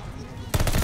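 Rapid automatic gunfire in Call of Duty Vanguard, a close, loud burst of quick shots starting midway through the short moment after a quieter stretch of game background.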